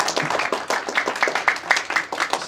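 Crowd at a sports award gala night claps for a speaker, a dense, even round of applause with rhythmic hand claps standing out, close and sustained without pause.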